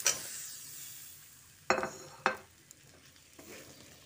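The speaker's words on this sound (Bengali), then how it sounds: "সয়াবিনগুলো দিয়ে আলুর সঙ্গে আরও খানিকক্ষণ ভালো করে মিশিয়ে নিচ্ছি" Fried potatoes and soybean chunks coated in spices are stirred in a pan over a faint background sizzle, with two distinct scraping strokes of the spoon near the middle and a softer one after.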